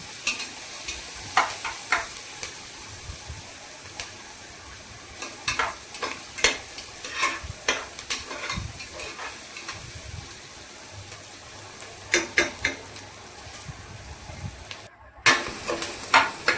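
Ingredients for tomato rice sauté in a pan until golden: a soft, constant sizzle is broken by bursts of spatula scrapes and clinks against the pan, close and intermittent, with a brief pause near the end.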